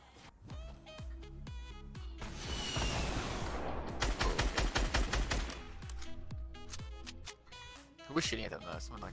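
Rapid bursts of video game gunfire from a shooter played on stream, a dense fusillade of repeated shots mixed with game sounds and music, loud and close, while people talk over it.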